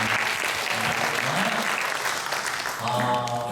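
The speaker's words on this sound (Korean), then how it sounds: "같이 박수로 환영해 주세요." Applause from a church congregation welcoming a young guest during a Sunday service, a steady dense clapping that fills the room for a few seconds with faint voices underneath.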